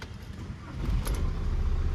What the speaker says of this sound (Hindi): ओके, गाड़ी स्टार्ट हो चुकी है हमारी।